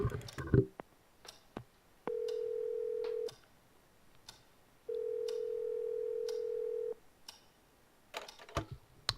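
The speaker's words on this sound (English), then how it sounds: "I dialed another number" A ringback tone sounds on a telephone while a call goes unanswered. Two long, steady tones are separated by a pause, and a few soft clicks and handling noises come before and after.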